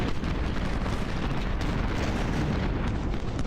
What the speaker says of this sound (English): Our artillery is firing.